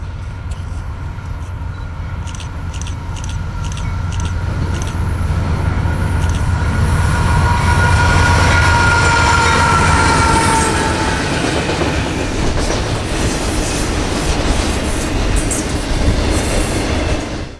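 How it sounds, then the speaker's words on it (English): A loaded Norfolk Southern autorack freight train led by a pair of rebuilt locomotives rolls past close by, a loud continuous rumble with rhythmic clickety-clack of wheels and some metallic squeal. "NS 18N rolled through with a pair of rebuilds"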